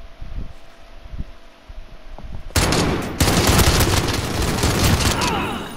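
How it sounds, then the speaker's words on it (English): Gunfire in Call of Duty: Modern Warfare, a semi-automatic weapon in a 2 vs 2 match, breaks out loud and close after quiet rustling, with dense repeated shots filling the second half. "What kind of gun is that? It's semi-auto."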